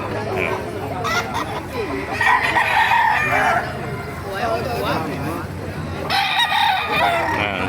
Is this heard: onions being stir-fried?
no